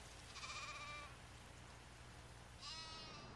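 Sheep bleat twice, a wavering nasal call near the start and another near the end, moderately close over a quiet background hum.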